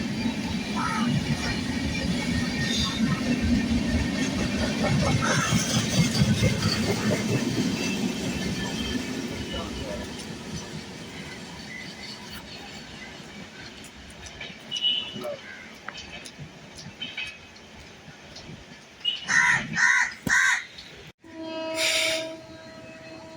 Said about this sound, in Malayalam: New Delhi Thiruvananthapuram Kerala express going to skip Irinjalakuda